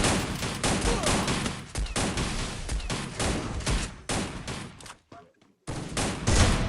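Dense rapid gunfire in the Free Fire mobile game during a LAN tournament match, loud and nearly continuous bursts with a brief gap near the end, with a player talking excitedly over it.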